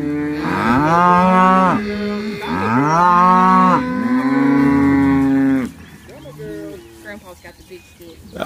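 A herd of cattle at a working pen lows in loud, long drawn-out moos, several overlapping calls close by, followed by quieter farm background.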